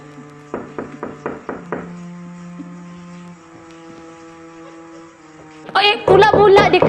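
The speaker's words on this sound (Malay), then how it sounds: "siapa yang mengetuk pintu di tengah malam buta tu?" Someone knocks on a door late at night: a quick run of five sharp raps, then a lull with a low tone before a voice begins talking loudly at the end.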